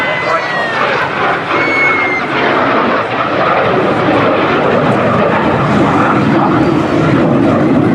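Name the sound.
display aircraft flying past at Torbay Airshow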